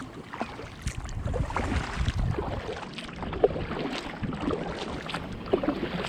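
A small boat gliding across a 25-acre pond at a campground, with a steady low rumble of water and motion plus light wind buffeting the microphone, continuous and fairly quiet with no one talking.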